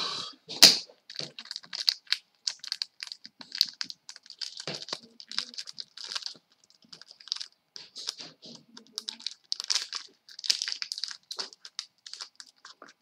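Crisp crinkling and tearing of a foil WWE Slam Attax trading card pack being opened up close, a string of sharp rustles and crackles with brief pauses in between.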